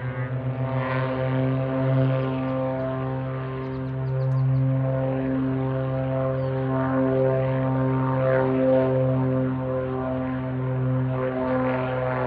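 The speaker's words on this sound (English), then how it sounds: "Keep hearing a lot of planes taking off." A propeller airplane takes off from an airport runway beside Colorado's Highway 50. Its steady, droning engine hum holds moderately loud for about twelve seconds with no talking.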